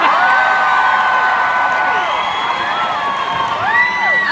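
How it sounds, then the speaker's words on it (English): A concert crowd at a show at the Fox Theatre in Oakland, California, cheers, whoops and claps loudly and continuously, with shrill shouts rising and falling through the steady roar. "But please give us lots of applause."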